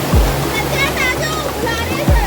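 Continuous rushing roar of the Satsada waterfall near the Savitri river in Mahad, close by, with water falling from above, faint voices and a couple of low thumps.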